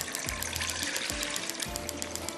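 About four glasses of water are poured into a cooking pan in a kitchen, giving a continuous splashing trickle with a few distinct gulping pours, fairly quiet and close.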